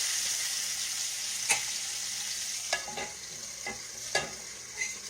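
Fat pieces of smothered fried chicken sizzle steadily in a pan over low heat, a continuous close frying hiss broken by a few sharp pops and clinks as pieces are turned.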